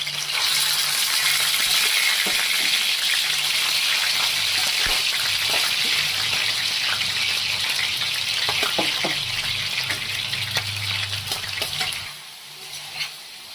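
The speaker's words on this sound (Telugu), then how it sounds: "ఆయిల్ హీట్ అయిన తర్వాత క్లీన్ చేసి పెట్టుకున్న ప్రాన్స్ అనేవి వేసుకోవాలి" Cleaned raw prawns drop into hot oil for a prawn pickle, raising a loud, sustained hiss and crackle of frying with scattered pops that eases off near the end.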